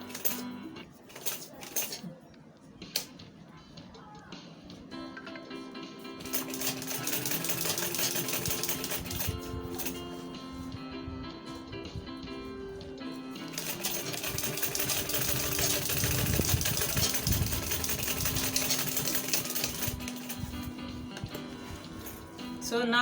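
A sewing machine stitches a padded leather bag in long, steady whirring runs. Short clicks and handling noises fall between the passages.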